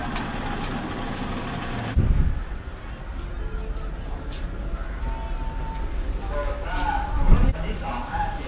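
Steady low rumble inside a passenger train from Bangkok's Thonburi Station to Kanchanaburi, with a deep engine drone and rattling carriage noise, a thump near two seconds and another swell later.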